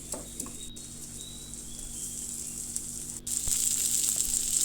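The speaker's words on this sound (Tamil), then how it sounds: "தக்காளி கட் பண்ணதை போட்டு நல்லா வதக்கிக்கோங்க" Tomatoes and crushed garlic sautéing in a pan for a brinjal fry, giving a steady close hiss of sizzling that swells louder near the end, with no talk.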